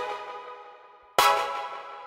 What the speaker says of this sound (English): The second pluck layer below that is Carabic Pluck 2.